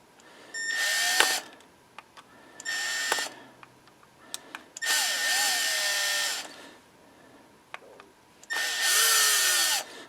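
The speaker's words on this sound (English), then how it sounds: "let me just take these screws out" Power tool backing screws out of a Hitachi leaf blower carburetor, four separate whirring bursts of a second or two each, close and fairly loud, with quiet clicks and handling noises between them.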